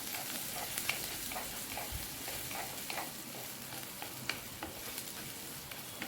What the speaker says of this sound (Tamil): அதையும் சேர்த்து நல்லா வதக்கி விட்டுக்கலாம்